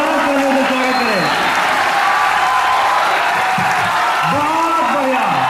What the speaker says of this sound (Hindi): एक बार पूरा सदन खड़ा होकर जोरदार तालियों से स्वागत करें।